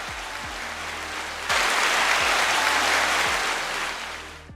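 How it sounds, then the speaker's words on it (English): A crowd breaks into steady, loud applause that swells suddenly and holds, then tapers off near the end. "I think I might even get a round of applause for that"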